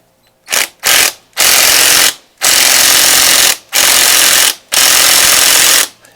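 A corded rattle gun impact wrench hammers in several loud, close bursts while fitting crash bobbins to a Yamaha YZF600 Thundercat, each burst about a second long, separated by brief pauses.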